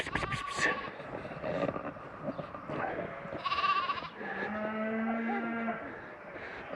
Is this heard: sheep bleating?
yes